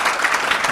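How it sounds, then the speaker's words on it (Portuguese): A short, lively burst of audience applause at a business talk, closely packed claps sustained evenly with no speech over them. "E uma salva de palmas aqui."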